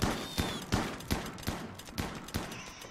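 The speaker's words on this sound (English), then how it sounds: "I can hear him shooting. Wreck was shooting something." A colonist shooting at a wild boar in the video game Rimworld: a rapid, evenly spaced string of about eight gunshots, crisp but not very loud.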